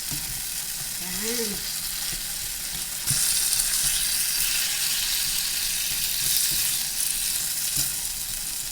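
Pork for spicy binagoongan sautés in a pan with a loud, continuous close sizzle, growing slightly louder partway through, with a brief spoken word near the start.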